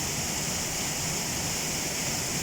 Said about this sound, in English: This is one of the 4 waterfalls here at Brecon Beacons.